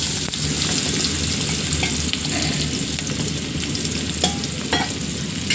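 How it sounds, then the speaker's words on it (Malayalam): Finely chopped large onion frying in oil in a pan, a loud continuous sizzle with stirring scrapes and a few clinks, no voices. "ചെറുതായി അരിഞ്ഞു വെച്ചുള്ള സവോള ഇതൊരു വലിയ സവോളയാണ് അത് നമുക്കിതിലേക്ക് ഒന്ന് ഇട്ട് കൊടുക്കാം"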